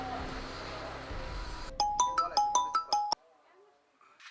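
A phone plays the ringing tone of an outgoing call: a quick run of bright, repeated electronic beeps lasting over a second, preceded by low room rumble and followed by near silence.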